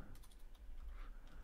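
Quick keystrokes on a computer keyboard typing a terminal command on an Arch-based Linux system, a short burst of faint, close clicks in an irregular rhythm.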